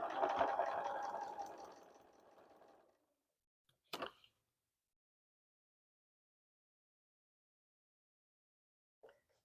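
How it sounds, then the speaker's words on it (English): Domestic sewing machine back stitching fabric: a close, steady motor whir for about three seconds that trails off, then a short sharp clatter and a faint tick near the end, with no talking. "Let's back stitch a little bit."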